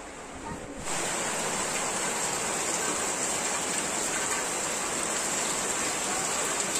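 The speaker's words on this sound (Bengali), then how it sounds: "কি বৃষ্টি" Heavy rain pouring down outdoors, a loud, dense, steady roar that swells to full strength after the first second and continues unbroken.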